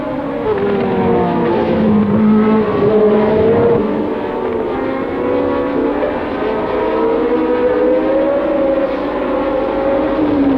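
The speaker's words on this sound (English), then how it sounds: "The flag falls, and away go the Lotus duo." Jim Clark's Lotus racing cars, Cosworth-engined, pull away at the start of a race, with loud continuous engine drone and rising harmonic whines layered over each other.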